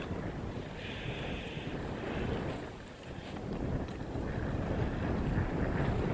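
Steady roaring wind buffeting the microphone on a snowy Brecon Beacons mountainside in winter at minus seven degrees, continuous and loud with slight swells, no voices.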